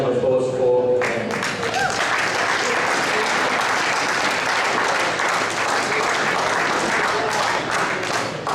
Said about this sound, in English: a big thank you and a round of applause for them